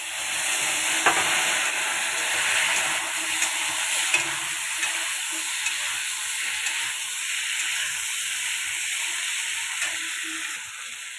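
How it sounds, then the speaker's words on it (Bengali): Turnips and potatoes fry in a pan with a steady broad hiss of hot oil and occasional soft stirring clicks, close and continuous throughout. "শালগম আর আলুটা আমি ভেজে দেবো।"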